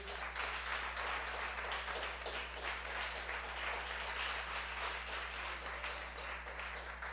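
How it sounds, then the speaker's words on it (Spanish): A church congregation at a Sunday Spanish-language service claps together in sustained, dense applause, fairly faint over a steady low electrical hum. "yo le pido que le dé un aplauso al Señor"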